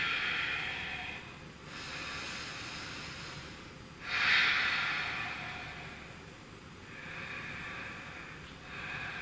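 Slow, steady exhales during a yoga forward fold, soft airy breaths rising and fading in long swells about every two seconds, close and quiet with no talking.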